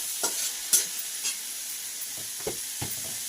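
Minced chicken stirred in hot oil in a wok, with a steady soft sizzle and several scraping stirs of the spatula at irregular moments, close by and fairly quiet.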